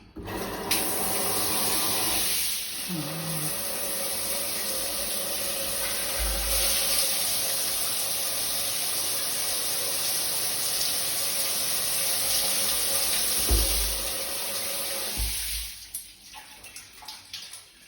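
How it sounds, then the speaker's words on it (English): Water pours steadily from an overhead rain shower in a hotel bathroom in a continuous hiss, runs for a long stretch and then shuts off near the end. "Oh, there's a rain shower too. Let's see how that works."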